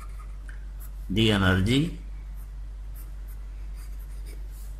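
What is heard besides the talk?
writing on a board during a lecture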